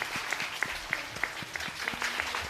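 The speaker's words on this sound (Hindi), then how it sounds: "सब लोग ताली लगाएं।" An audience at a Ramayana quiz competition claps faintly in a steady, evenly spaced rhythm, soft individual claps ringing out over a quiet hall.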